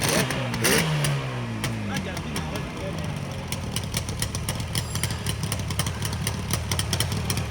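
A modified Yamaha RD 350 motorcycle engine runs loud and close, rising in an early rev and then settling into a busy, rattling two-stroke idle, with a voice speaking over the engine.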